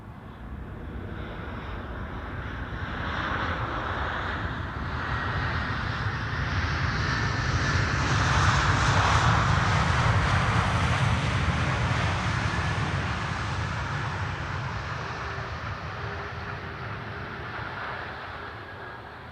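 A Boeing 747 bound for Sofia takes off from runway 24 at Schiphol, its engine roar swelling to a broad peak and then slowly fading as it climbs away; loud, steady and alone.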